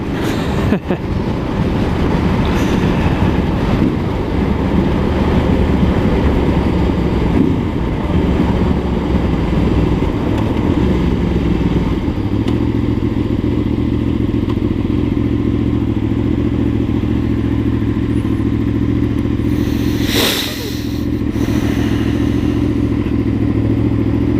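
A motorcycle engine drones loudly and steadily from the rider's position, with one brief rev swell near the end and no speech.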